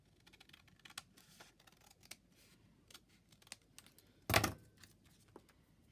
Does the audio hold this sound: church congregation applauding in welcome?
no